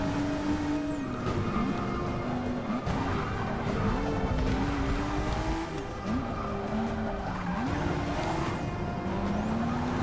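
A race car in Forza Motorsport 6 drives and brakes on a circuit around Rio de Janeiro. A steady engine whine rises and drops with each gear change and braking point, with faint tire squeal and no talk.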